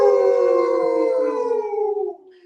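A group of people mimics dogs howling together in a long, loud vocal howl that slides downward and fades out over about two seconds, with no speech over it.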